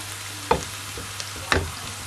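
Chili prawns fry in a pan with a steady low sizzle, broken by two distinct scraping stir strokes and a faint tap between them, close and clear without voices.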